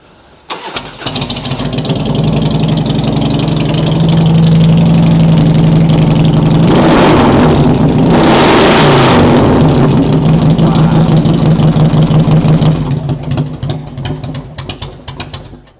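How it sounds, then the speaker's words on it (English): A loud motorcycle engine idles and then revs up hard, holding a sustained roar for several seconds before easing back down, close to the microphone, with faint voices in the background. "That's the loudest bike I've ever heard."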